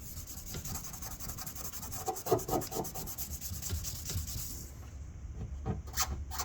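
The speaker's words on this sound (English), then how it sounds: "I still have to sand it down, right? Like this, right?" Sandpaper rubbing back and forth over rust and paint chip spots on a metal surface, a steady close rasping scrape that stops abruptly near the end, followed by a few light taps.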